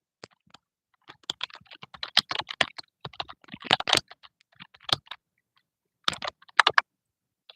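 Someone types a prompt on a computer keyboard in quick, close, fairly quiet bursts of clicky keystrokes, with brief pauses between words and no speech.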